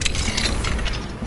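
Alohomora unlocking spell cast in Hogwarts Legacy, a short burst of clicking, ratcheting mechanical lock sounds, close and loud, with no talk.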